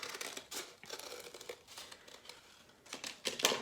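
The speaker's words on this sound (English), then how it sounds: "I'm gonna cut a nice, large oval." Scissors snip and crinkle through paper as a large oval is cut for a paper collage butterfly, quiet close-up rustles and short cutting bursts at an uneven pace.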